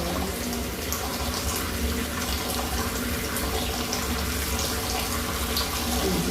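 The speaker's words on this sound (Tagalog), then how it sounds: "Lagyan natin ng water." Water runs steadily into a cooking pot for papaitan, a continuous close gushing rush heard alone.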